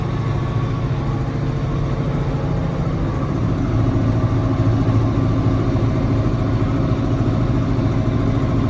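A tractor engine idles steadily, a low rumbling drone through a big truck exhaust used as a muffler, continuous and unchanging, with no voices.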